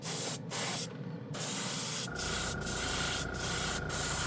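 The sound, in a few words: spraying Tamiya clear paint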